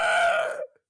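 A single voice imitates maniacal demon screeching, a strained, tonal shriek lasting under a second before cutting off abruptly into silence.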